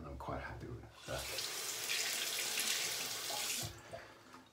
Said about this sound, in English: I'll just rinse off real quick.